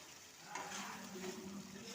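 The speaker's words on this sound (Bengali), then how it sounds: "কপিটা আমি দিয়ে দিলাম। ভালোভাবে কষে নিচ্ছে।" Cauliflower sautéing in a pan for a dhaba-style aloo gobi curry, giving a soft, continuous sizzle with faint stirring underneath.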